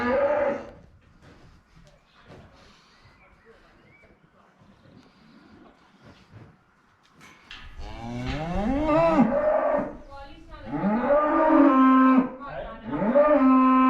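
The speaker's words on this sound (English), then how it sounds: "When it comes to two cows mooing, Abby is usually the quieter one." Two cattle let out to pasture moo loudly and close by, their long rising calls overlapping in the second half after quieter shuffling and faint sounds at the start.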